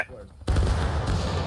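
A massed musket volley fires on command in the War of Rights video game, a sudden loud crackling blast after a brief quiet shouted order, its roar rolling on and echoing for over a second.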